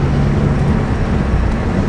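A car with a junkyard replacement engine, heard as a steady loud droning engine tone close by as it downshifts, with no voices.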